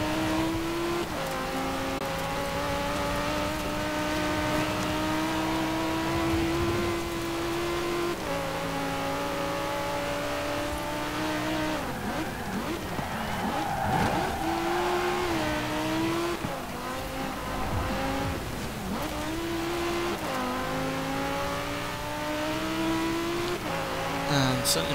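Audi R8 engine in Forza Horizon 4 during a seasonal championship race, a loud continuous revving howl rising and falling through gear shifts with brief tire squeal, close and sustained throughout.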